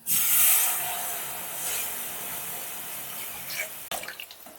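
Water runs steadily from a tap into a pot for boiling moong dal, a close continuous gush that fades slightly before it stops, with a few drips and splashes at the end.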